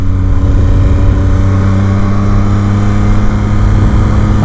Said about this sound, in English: I like to be able to get on the on-ramp and roll onto the throttle to feel it.